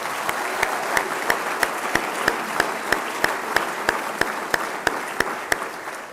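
Steady applause from a crowd at a university men's basketball banquet, a continuous wash of clapping with a few sharper claps standing out at regular intervals.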